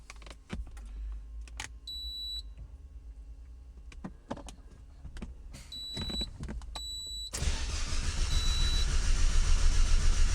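Clicks and short electronic beeps, then the starter motor of a Lancia Delta 1.4 turbo running on LPG cranks loudly with a fast, rhythmic churning that continues to the end without the engine catching.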